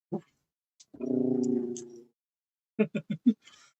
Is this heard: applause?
no